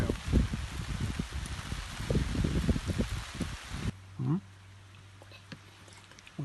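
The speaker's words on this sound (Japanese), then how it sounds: "雨降ってきたね。" Rain falls at Boiboi campsite during an outdoor curry meal, a dense close patter mixed with voices and eating sounds. The patter cuts to a much quieter hiss partway through.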